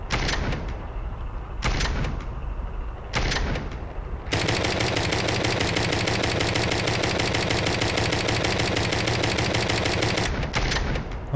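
Sustained machine gun fire in the Brick Rigs building game, a fast, steady rattle of shots running for several seconds after a few short bursts, loud and dense with no talk over it.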